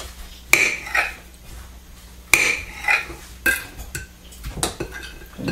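A knife cutting tofu in half on a board, then the pieces set into a bowl: sharp knocks and clinks of utensil against dish, a few separate bursts over a quiet kitchen background.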